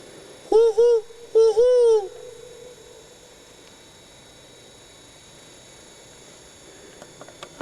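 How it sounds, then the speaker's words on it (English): An owl in snowy winter woods gives two close, clear hoots about a second apart, followed by several seconds of quiet outdoor hush. "you could hear the owl that we did when we were out there"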